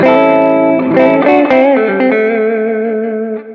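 A Yamaha Revstar electric guitar on the middle pickup position rings out sustained chords with effects-laden tone, notes blooming and slowly decaying over a few seconds, loud and close.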